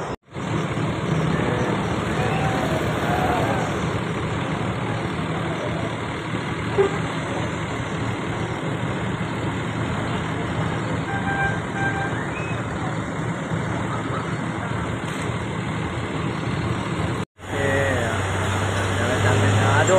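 Trucks and other vehicles rumble along a highway in Sumatra, a constant heavy roar of nearby traffic with a brief cut in the middle and people talking nearby.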